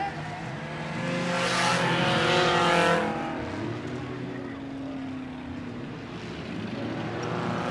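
Race cars roar loudly at Rockford Speedway during a gauntlet race, engines swelling as a pack passes close by, then holding a steady drone through the turns and back stretch, with a faint voice mixed in.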